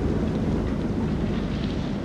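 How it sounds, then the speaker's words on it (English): Thunderstorm in the horror video game Man of Medan, a steady dense roar of rain and wind with low rumble running loud and unbroken throughout. "Find out how long the storm is gonna last."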